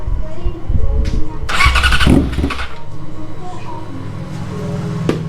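A Yamaha R6 motorcycle fitted with an Austin Racing carbon exhaust idles and rumbles nearby, with a loud burst of revving in the middle, while people talk over it.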